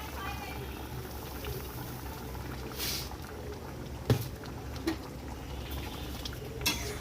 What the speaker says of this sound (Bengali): চিনি দেওয়ার পর মিশিয়ে নিলেই একটু ফুটে উঠলেই আমের চাটনি রেডি